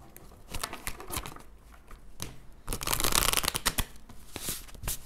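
Tarot cards shuffled for a weekly reading, a run of papery riffles and flutters with a denser burst in the middle, close and fairly loud with no talking.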